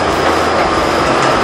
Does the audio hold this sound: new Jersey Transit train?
yes